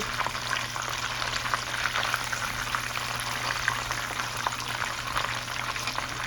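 Chicken fries in a pan with a dense, continuous crackling sizzle and tiny popping bursts throughout, close and steady with no talking.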